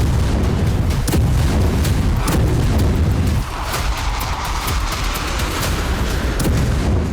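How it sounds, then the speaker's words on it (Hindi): Storm Shadow cruise missiles strike Russian cities in news footage, a loud, continuous roaring rumble broken by several sharp cracking blasts one after another, with no voices. "यूक्रेन ने स्टॉर्म शैडो मिसाइलों से रूसी शहरों में इसी तरह से एक के बाद एक 10 धमाके किए।"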